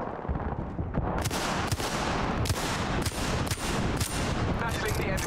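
Rapid video game gunfire in a shooter match, a loud run of sharp cracking shots and bursts spaced roughly half a second apart over a constant rumbling battle bed, with no talk over it.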